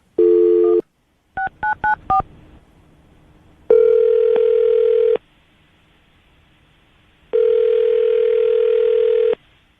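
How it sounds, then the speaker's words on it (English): A telephone handset: a short tone, a quick burst of keypad dial beeps, then two long ringback tones separated by silence. "we'll dial the number"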